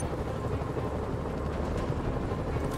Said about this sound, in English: I bet I can use those helicopters to swing